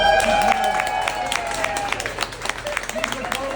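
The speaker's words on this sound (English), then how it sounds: "Give her a round of applause." Guests at a book signing party give a round of applause. The scattered, sharp hand claps ebb and pick up again under nearby talking and crowd chatter.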